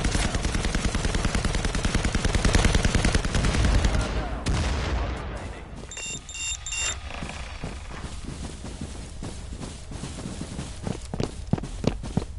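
Gunfire in the tactical shooter Firewall, with a dense loud burst of rapid shots at first, then scattered single shots and footsteps, while players talk over it.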